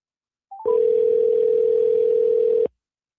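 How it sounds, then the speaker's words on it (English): A telephone dial tone sounds after a brief dialing blip: one steady, loud continuous tone lasting about two seconds, then cutting off into silence. "Let's see if I could dial the right number this time"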